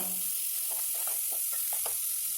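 Onion, green chili and carrot sizzle in a hot mustard-seed and cumin tempering for pappu charu, a steady close broadband hiss with soft stirring scrapes and a few small pops, no voices.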